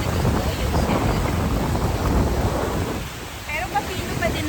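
Strong gusting wind buffets the microphone on a sandy Tampa, Florida beach, a loud, steady roar with surf washing underneath and no talking.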